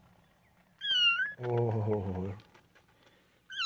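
A kitten meows a few times, high, close and fairly loud cries in short separate calls; a person briefly speaks between them.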